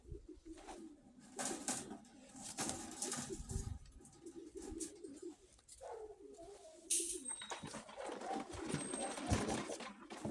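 Soft pigeon cooing close by amid a busy, noisy background with rustling and scattered bird sounds.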